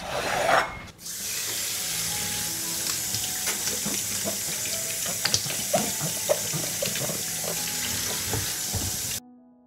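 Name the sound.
washing fresh peppers under running tap water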